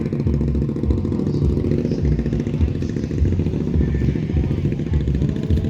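An antique Allis-Chalmers B tractor engine runs steadily at a farm equipment show, a continuous low, rhythmic chugging at even loudness throughout with no clear speech over it.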